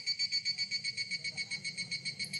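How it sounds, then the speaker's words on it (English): Cicadas buzz outdoors in a steady pulsing drone, a regular throbbing rhythm of rapid beats that continues evenly throughout, fairly loud and with no voices. "Oh, cicadas."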